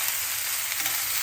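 Mushrooms fry in a pan with a steady, bright sizzle close to the microphone, continuous and even with no voices.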